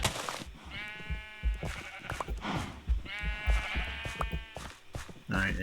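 A sheep in the Minecraft video game bleats repeatedly in short, close, wavering calls, some overlapping, with a few light game noises between them.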